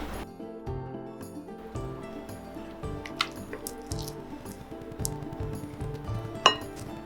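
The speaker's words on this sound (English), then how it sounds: "Then break the yolks and mix that up really thoroughly" Egg yolks are broken and worked into sticky sourdough starter in a bowl for crepe batter, with quiet repeated knocks, clinks and wet squishing from a utensil against the bowl.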